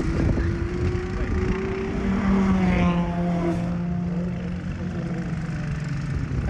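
A camera drone flying over a racetrack trackday, its steady motor hum holding close and continuous with a rising then falling whine, while a voice talks over it.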